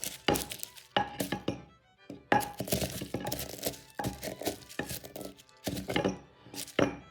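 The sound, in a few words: smashing ingredients together to mix them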